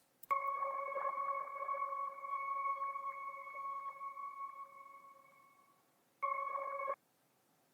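Screamer accent effect from an FL Studio beat in the Southside style: a bright, steady sustained tone that holds for about six seconds and fades, then returns briefly for a short final burst, with no talking.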